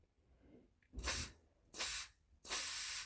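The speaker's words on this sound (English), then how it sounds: "You can see it's a much nicer spray, much cleaner, much better." Water from an upgraded intercooler spray nozzle fires in three distinct hissing bursts, each about half a second long, close and loud, with quiet gaps between them.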